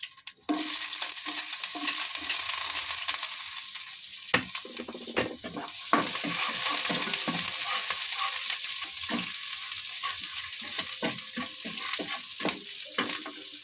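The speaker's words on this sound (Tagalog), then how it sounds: "Okay, nag-brown na yung ating bawang. Sunod natin ang onions." Onions sizzling in a pan with already browned garlic, a steady crackling fry broken by sharp scrapes and clicks of a utensil stirring, fairly close and with no talk.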